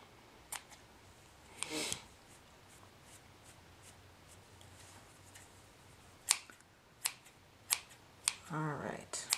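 Scissors snip at a handmade yarn pom-pom in several quick, faint, separate cuts spaced irregularly across a quiet room, with brief rustling between them.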